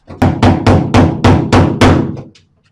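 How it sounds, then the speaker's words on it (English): Steady hammer blows strike the metal boot panel of a Holden Torana UC under restoration, eight loud, evenly spaced metallic knocks close by, each ringing briefly before the next. "don't go nuts hammering it"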